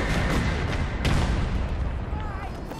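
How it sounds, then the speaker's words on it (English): Sniper fire in a video game: heavy booming gunshots and rumbling blasts fill the mix loudly, with a sharp crack standing out in the middle and players talking over it. "We got sniper fire coming from behind us"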